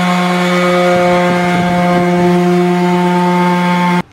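A power sander smooths a raw wooden board, giving a loud, steady motor whine that holds for about four seconds and then cuts off abruptly.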